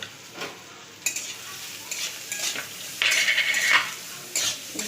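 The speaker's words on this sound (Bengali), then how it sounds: "ভেজে নেব একদম অল্প করে একটু নুন দিলাম" Carrots and beans fry in a pan with a crackling sizzle, broken by close scrapes and clinks of a spatula stirring against the metal, loud and near with no voices.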